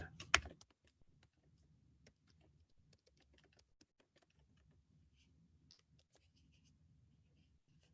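Fingers tapping on a computer keyboard in a quiet room, one sharp loud knock at the start, then soft, scattered keystrokes in short irregular bursts.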